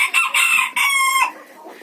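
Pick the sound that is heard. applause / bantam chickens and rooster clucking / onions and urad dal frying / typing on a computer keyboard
bantam chickens and rooster clucking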